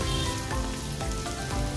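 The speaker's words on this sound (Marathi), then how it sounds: "गॅसची फ्लेम मंद ठेवून ही छान खालीवरती परतवून घेऊया।" Chicken liver fries on a tawa over a low gas flame, giving a steady, close, moderately loud sizzle that runs unbroken through the short stretch with no talking.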